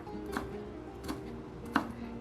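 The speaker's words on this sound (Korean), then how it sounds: "오이를 잘게 썰어줍니다" A knife chops cucumber peel finely on a cutting board, three faint, separate taps spaced about a second apart over a low steady background hum.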